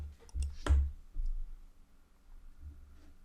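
Several sharp computer mouse clicks on a Windows computer, a few quick taps close together and then a couple of isolated clicks, crisp and close in a quiet room.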